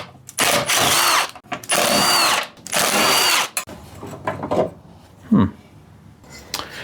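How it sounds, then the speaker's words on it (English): Nylock nuts are driven off carriage bolts on a Toro TimeMaster mower in three loud, sustained bursts from a close power tool, followed by quieter clicks, a sharp knock and brief ratcheting sounds. "this will probably make some noise because these are nylock nuts"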